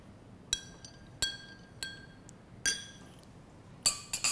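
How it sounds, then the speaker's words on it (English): A spoon stirring pH test drops into water in a glass, six sharp glassy clinks spaced unevenly, close and clear over a quiet background. "And stir."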